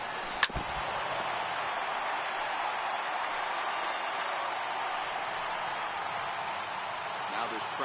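A large stadium crowd of about 36,000 rises in a steady, roaring cheer during a Phillies–Red Sox baseball game in MLB The Show 18, with one sharp knock near the start and a broadcast commentator talking over it.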